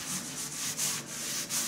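Colour rubbed by hand into a wooden table top: close, steady rubbing strokes in an even back-and-forth rhythm, about five swells, with no voices.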